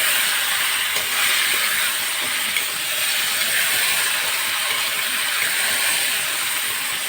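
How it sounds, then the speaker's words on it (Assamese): Duck meat frying in a pan gives a loud, steady sizzling hiss that stays even and continuous from start to finish, with no voices. "এতিয়া মাংসখিনি প্ৰায় আধা ঘণ্টামান ফ্ৰাই কৰিব লাগিব।"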